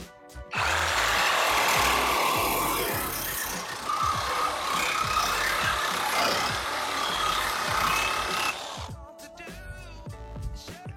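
Einhell reciprocating saw fitted with a metal blade cutting through metal, a loud continuous buzzing rasp for about eight seconds that stops abruptly, leaving quieter background.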